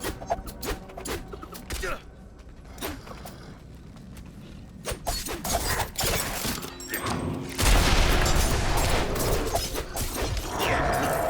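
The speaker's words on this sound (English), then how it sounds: "Now they're exploding." Explosions in a video game: sharp booming blasts and crashing impacts scattered across the stretch, growing denser and louder toward the end, mixed with mechanical clatter and bursts of gunfire, with someone talking over parts.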